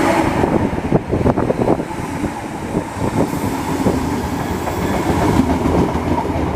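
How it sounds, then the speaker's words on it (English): A terminating Great Northern service from Moorgate, in old First Capital Connect livery, pulls into Stevenage station on the East Coast Main Line, with a loud, steady rumble and rhythmic clattering of wheels over rail joints throughout. "Now arriving in is a terminating Great Northern service coming in from Moorgate via the North City line."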